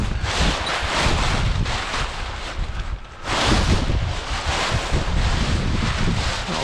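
Strong wind gusts buffet the microphone on a beach during kitesurfing with a 27 m BDG Wasp kite, a loud, continuous roar with a brief lull midway before the gusts surge back.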